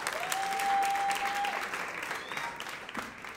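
A church audience claps in a dense burst of applause that fades gradually, with a brief sustained tone and faint voices beneath.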